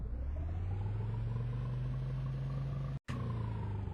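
A steady Roblox Bloxburg car engine drone with a rising pitch as the car accelerates, then a sudden brief cutout before it resumes, continuous and fairly loud with no talking.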